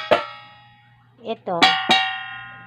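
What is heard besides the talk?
oblong plate being struck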